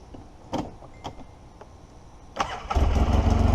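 Polaris Sportsman 700 twin ATV, in need of an exhaust gasket, cranks with a few short clicks and bursts, then catches and settles into a loud, steady rumble close by.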